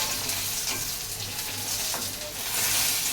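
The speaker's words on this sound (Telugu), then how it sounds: "ఇప్పుడు బాగా కలుపుకోవాలి" Coriander seeds being stirred as they fry in a pan for gongura chutney, a steady close sizzle with quick scraping strokes of a spoon, no voices.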